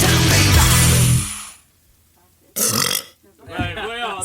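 A singer lets out a long, loud, close burp at the end of a rock song, followed by a short pause and then a voice or another rough burst.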